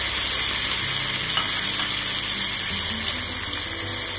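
Tomatoes tipped into onions cooking in a pan for rice-stuffed squid, giving a steady close sizzle with wet bubbling and brief stirring sounds throughout, with no one speaking.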